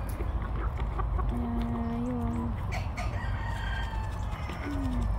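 Several free-range chickens, aged 8 to 19 months, clucking and a rooster crowing nearby over a steady outdoor rumble, with drawn-out calls rising and falling.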